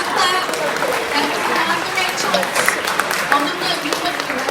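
An audience breaks into applause, a steady patter of many hands clapping close by with a speaker talking over it.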